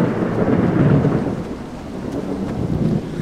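Rumbling thunder with steady rain in the horror game Pineview Drive, a continuous heavy roll that swells and eases without pause.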